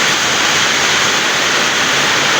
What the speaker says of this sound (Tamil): தகரத்தோட சத்தம்